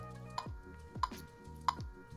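An online metronome set to 92 beats per minute ticks three times, each click crisp and evenly spaced, alone and close.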